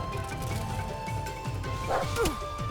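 Quagmat dogs attacking in the strategy video game Wargroove, with short yipping barks and crunchy hit impacts layered over game music, a higher yelp rising near the end.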